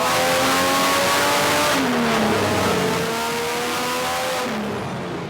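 A turbocharged Barra engine in an 80 Series Land Cruiser on a dyno screams loudly and continuously through a full-throttle run, its pitch climbing, briefly dipping and rising again, with no talk over it.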